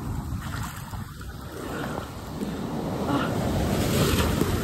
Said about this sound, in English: Because the waves are kind of big right now.